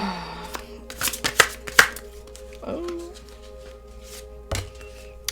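Cards shuffled in a few quick crisp bursts of riffling and tapping, close by, followed by quieter handling and a soft thump.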